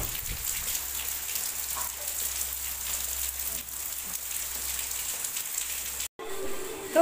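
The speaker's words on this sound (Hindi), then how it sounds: "देख लीजिए कितना बारिश हो रहा है" Heavy rain falls steadily as a dense, even hiss, close and continuous, with a brief dropout near the end followed by a short clatter.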